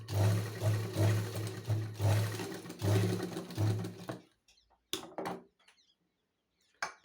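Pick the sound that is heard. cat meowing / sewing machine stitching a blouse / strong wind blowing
sewing machine stitching a blouse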